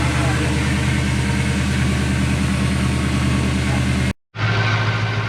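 A Toyota 3UZ V8 swapped into a Ford Courier minitruck idles with a misfire, a loud, close, low rumbling idle with an uneven pulsing beat, briefly cut by a short dropout near the end.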